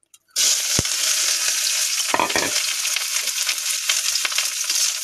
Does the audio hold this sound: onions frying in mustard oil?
yes